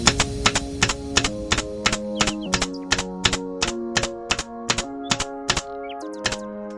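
An Arrow PT50 staple gun fires 12mm staples in a rapid, regular series of sharp, loud metallic snaps, about a dozen and a half evenly spaced shots, each with a short ringing tail.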